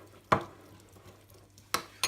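Chopped tarragon is stirred into olive oil in a bowl, with three distinct close taps or scrapes of a utensil separated by quiet. No talk is heard.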